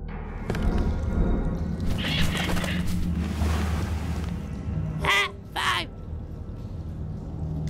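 Crows caw in the Mystery Case Files: Black Crown hidden-object game, two clear harsh calls near the end over a busy background, with a voice talking throughout.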